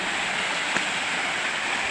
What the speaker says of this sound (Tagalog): pangatlong palapag ng Taguay Falls. Ayan o. Taguay Falls.